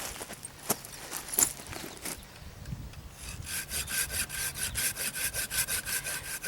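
A cheap dollar-store folding saw cuts into live wood, first with a few scattered scraping strokes, then settling into a steady, rhythmic back-and-forth rasp of quick strokes, close and fairly quiet.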